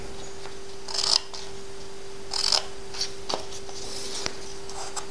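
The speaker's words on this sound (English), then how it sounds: "Now we cut our tabs" Scissors snipping card tabs while making a card-in-a-box box, two crisp close cuts followed by softer small snips and handling over a faint steady hum.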